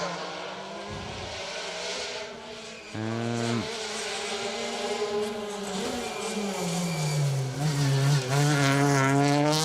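A Peugeot 208 R2 rally car on a Manx Rally special stage revs hard as it passes close by, engine note climbing through gears with a sharp shift around midway and continuing loud and rasping to the end.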